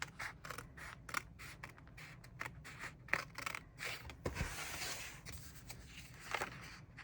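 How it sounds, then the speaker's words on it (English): Scissors trim a paper journal page for a Halloween Dutch door spread, with a series of quiet, close snips and paper rustles at an uneven rhythm. "we take our scissors and trim this down"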